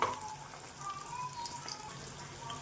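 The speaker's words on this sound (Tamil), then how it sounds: "இப்போது வெங்காயம் நல்லா வதங்கட்டும்." Chopped small onions fry in oil in a pan as a tamarind gravy is cooked, giving a faint, steady, soft crackling sizzle throughout.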